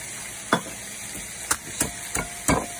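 Native garlic bulbs being smashed on a board, several sharp dull thuds at uneven intervals, close and distinct over a steady background sizzle of frying food.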